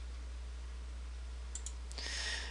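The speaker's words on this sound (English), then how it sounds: "So left click on that and click OK." A computer mouse gives two quick, close clicks, then a brief rattling burst, over a steady low hum while working in Revit, with no talking.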